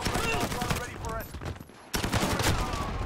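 Rapid gunfire in the Call of Duty Modern Warfare video game fills the whole moment with dense, loud, overlapping shots in quick bursts, broken by a short lull before another burst.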